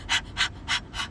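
A singer imitating a dog's pant with her own breath, four quick, even, breathy huffs, close and alone.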